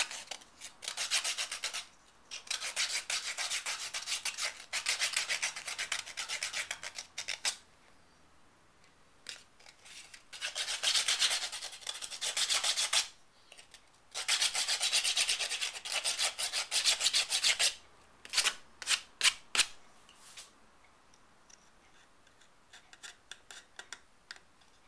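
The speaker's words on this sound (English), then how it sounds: "Now we're going to sand this off so there's no splinters." Sandpaper rubbing on the wood of a homemade bird box, smoothing off splinters in bursts of brisk back-and-forth strokes separated by short pauses, close up and with no one talking.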